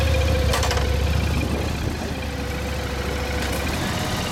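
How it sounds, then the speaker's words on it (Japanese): A 2015 Suzuki Gladius 400 ABS motorcycle idles nearby with a low, uneven throbbing rumble, steady throughout with a couple of brief higher-pitched noises. "あのエンジン音聞かせてもらえる？"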